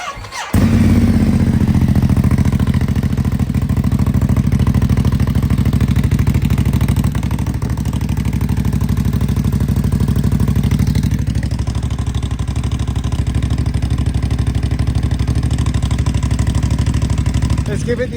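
A Ducati Hypermotard 950 SP fitted with a VanDemon exhaust and baffle cranks briefly, fires up and settles into a loud, steady, lumpy idle that runs for the rest of the clip.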